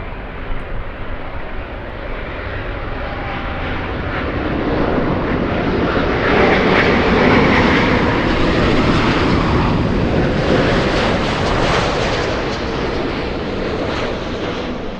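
A large airliner departs LAX bound for Hawaii, its jet engines building to a loud, broad roar that swells over several seconds, then holds steady and begins to fade. No voices.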